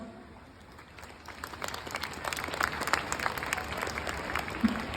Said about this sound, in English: I would request everyone to give a big round of applause.